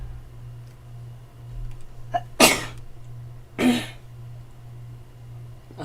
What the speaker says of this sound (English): I'm not done sneezing, apparently.